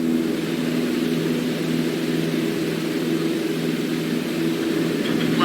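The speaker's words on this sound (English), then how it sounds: "go full throttle and start climbing." A small airplane engine held at full throttle during a climb, a steady, dense broadband roar with a low hum that stays constant throughout, close and loud.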